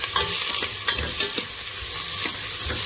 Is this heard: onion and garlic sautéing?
yes